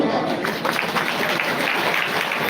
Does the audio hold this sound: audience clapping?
yes